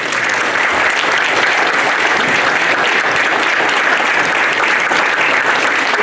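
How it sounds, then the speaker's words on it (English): Audience applause at the close of a county supervisors candidate forum, a dense, loud, sustained roar of many clapping hands with no break. "The appropriate time for a round of applause."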